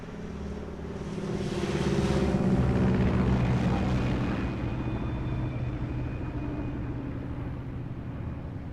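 An aircraft flies overhead in the video game Metal Gear Solid Delta, a deep rumbling engine drone that swells to a loud peak and then eases into a steady, slightly quieter hum.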